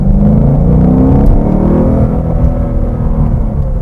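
A 2015 Ford Mustang GT with a naturally aspirated V8 pulls hard under acceleration, a loud, continuous engine roar heard from inside the car, with no talking.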